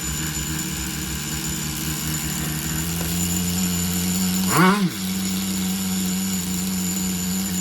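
Tamiya TGS-R nitro engine in an on-road Subaru RC car idling steadily with a buzzing drone, then a brief sharp rev as the high-speed needle is adjusted, settling back to a steady hum.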